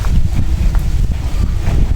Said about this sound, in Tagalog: Ay, lakas ang hangin.